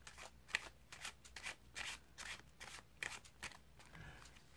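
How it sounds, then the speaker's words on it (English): Playing cards being shuffled in a series of quick riffling bursts, close up and fairly quiet, with short pauses between them. "shuffle off everything else"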